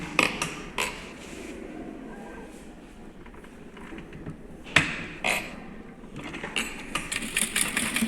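A sewing machine stitching fabric during a seam demonstration, running in uneven bursts with mechanical clatter and creaks, some short pauses, and louder clicks near the end.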